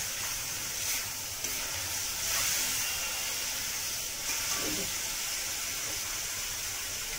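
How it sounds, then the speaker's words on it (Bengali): Water poured into a pan of well-fried spice paste for a katla fish oil curry sets off a steady, close broadband hiss and sizzle that swells briefly and holds throughout. "মশলাটা সুন্দরভাবে ভাজা হয়ে গিয়েছে। এর মধ্যে আমি এবার একটু জল দিয়ে দেবো।"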